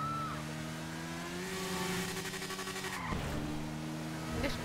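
A motorbike in Grand Theft Auto V revs and speeds, its game engine tone climbing in pitch, dropping at a gear change, then rising again, steady and fairly close.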